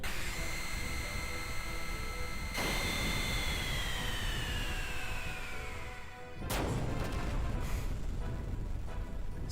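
A Supernova attack effect from the game Xenogears, a loud, sustained noisy roar with a descending tonal sweep, an abrupt cut, then a fresh burst of roaring noise.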